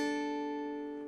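One sustained acoustic guitar note from a song's riff, ringing clearly and sliding upward, then fading quickly, alone and close.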